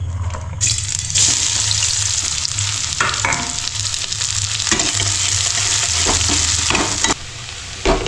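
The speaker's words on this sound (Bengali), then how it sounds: "তেল রেডি গরম হয়ে এবার এখানে দিয়ে দেবো পেঁয়াজটা।" Sliced onions dropped into hot oil for a chicken chana masala, bursting into a loud, continuous close sizzle with intermittent scraping and stirring knocks over several seconds and nobody speaking.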